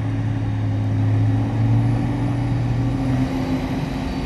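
A heavily loaded truck manoeuvres on wet ground at a sugar mill, its engine a steady low drone with a sustained tonal hum running throughout, close and fairly loud with no voices.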